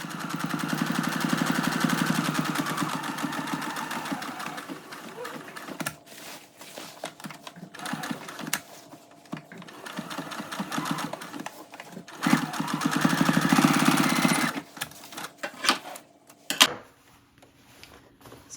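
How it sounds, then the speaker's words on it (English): A sewing machine top stitches a jeans seam in steady whirring bursts with short pauses between runs, close and moderately loud, with no talking. "So I'm gonna go top stitch that down"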